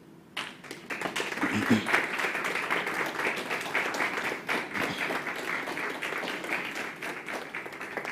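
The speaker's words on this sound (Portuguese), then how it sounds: "Por favor, recebam ela com palmas." Audience applause after a curator is introduced at a Brazilian philosophy lecture event, a steady wash of clapping from a crowd lasting several seconds, with some faint voices mixed in.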